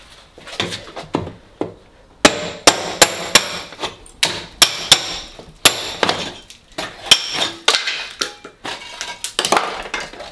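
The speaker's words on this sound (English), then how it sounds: "the easiest way, or the amateur way, to find out if the plaster's blown is literally just to tap it" Repeated sharp knocks and taps on a wall of cracked, blown plaster, irregular in rhythm, close and fairly loud, with some crumbling rattles between hits.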